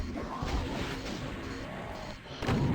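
Rockets fired at a Mancubus in DOOM, heard as a dense, continuous roar of blasts and crashes with a heavier impact near the end, loud and without talk.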